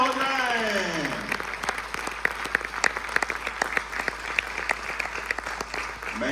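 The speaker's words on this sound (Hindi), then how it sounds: "एक बार फिर से जोरदार तालियां हो जाएं" A theatre audience applauds performers of a Hindi play steadily with dense, continuous clapping, after a voice trails off at the start.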